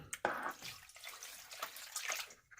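Water sloshes and swirls in a gold pan during the final panning of a gold-bearing bag's concentrate, with a sharp splash near the start followed by steady close-up watery swishing and ripples, no talk.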